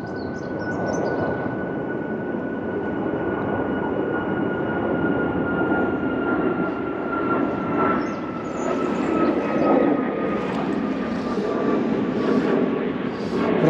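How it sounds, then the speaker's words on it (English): A plane passes overhead near Prestwick Airport beside the River Ayr, a steady broadband roar with a faint whine that swells slightly toward the end, continuous and moderately loud outdoors. "Now we've got a plane coming over."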